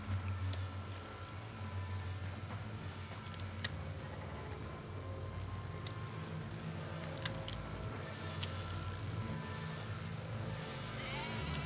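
Sheep bleat now and then in the video game Ghost Recon Breakpoint, over a constant low rumble and ambient noise, sounding fairly close.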